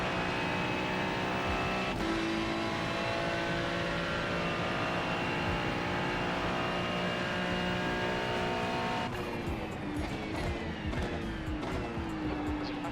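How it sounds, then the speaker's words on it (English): Race car engines in the iRacing sim during an IMSA event at the Indianapolis road course, a steady loud drone of revving motors with pitch shifts as cars close in and pass, no talk. "There's a faster car approaching."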